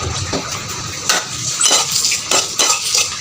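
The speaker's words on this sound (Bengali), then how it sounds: "এদিকে আমি আস্তে আস্তে করে নেড়ে দিতেছি" A utensil stirs and scrapes against a metal pot in irregular strokes, with a faint crackle of panch phoron and dried chillies frying beneath, close up and without speech.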